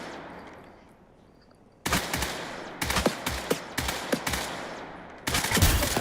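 Automatic gunfire in the first-person shooter game Off the Grid, with several sharp bursts of rapid shots separated by short pauses, loud and close, after a quiet opening.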